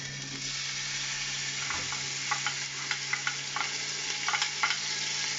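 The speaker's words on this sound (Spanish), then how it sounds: "en cuanto se caliente un poco el aceite, vamos echando la cebolla" Onion pieces frying in hot oil in a pan, a steady soft sizzle with scattered light crackles and spatters, close and alone without talk.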